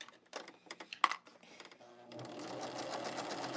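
A domestic sewing machine quilting a Happy Days quilt, a few short taps and bursts before settling into a steady, close whirring run of stitches.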